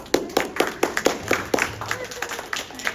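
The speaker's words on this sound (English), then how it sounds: "Now we can clap" Audience members at a school board candidate forum clap, a moderate run of separate claps at a fairly even pace, not a dense ovation, with a voice speaking over part of it.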